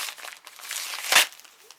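A large paper envelope is torn open in one quick, sharp rip that crinkles near and loud for a moment, set against a quiet background.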